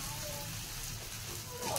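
Rain falls in Chennai as a steady, faint hiss of drops on surfaces, even and unbroken throughout, heard from indoors at low volume.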